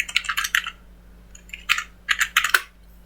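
Keys clicking on a computer keyboard while a command is typed in Ubuntu, coming in short close bursts of taps with brief pauses between them, and no talking.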